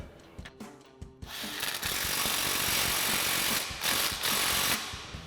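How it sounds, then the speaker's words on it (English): Ratchet and 21mm swivel socket on an extension tightening a bolt on a Jeep Gladiator JT suspension during a lift kit install: a few sparse clicks, then a dense, steady run of fast ratcheting, close and fairly quiet. "you're going to use an extension and a 21mm swivel socket and tighten this down"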